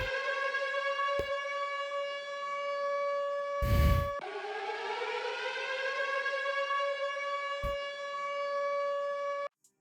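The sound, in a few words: siren sound sample in FL Studio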